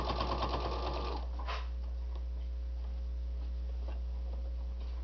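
A sewing machine stitches around a fabric bowl cozy with a quick, steady ticking run for about a second, then falls quiet beneath a constant low electrical hum and faint small handling noises.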